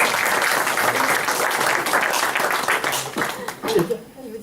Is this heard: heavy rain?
no